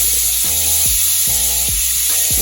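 Chicken drumettes fry in a hot pan with a loud, constant sizzle, while low rhythmic scraping thuds recur about three times as the pieces are stirred and moved around.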